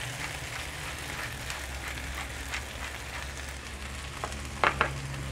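Sausages and onions sizzle in a pan during stir frying, a steady crackling hiss at moderate level with a few light utensil taps near the end.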